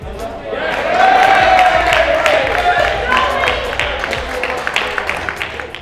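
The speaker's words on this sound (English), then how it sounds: "complemented by cheers from the crowd watching" A crowd of spectators at a darts tournament cheers and claps loudly and steadily for several seconds, the roar tapering slightly toward the end.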